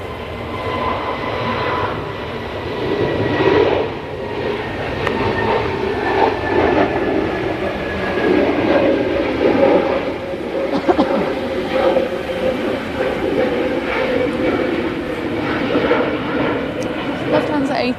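A Lufthansa Airbus A320neo jet bound for Munich at Manchester Airport gives off a steady, fairly distant engine rumble with a slowly falling whine, while people talk over it.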